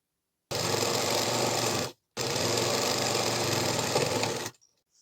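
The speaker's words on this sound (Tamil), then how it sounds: "இந்த டாப் சைடும் அரைஞ்சுக்கு மடித்து அப்படியே தையல் போடுங்க" A sewing machine stitches the folded top edge of a kitchen apron in two close, steady, continuous runs. The first lasts about a second and a half and the second over two seconds, with a short pause between them and no talking.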